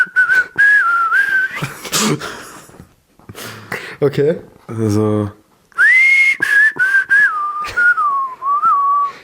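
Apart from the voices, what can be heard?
person whistling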